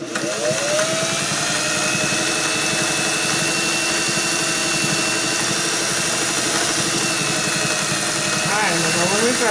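A vintage Singer 403A sewing machine stitching, a loud steady motorized whir with rapid needle clatter running throughout without pause.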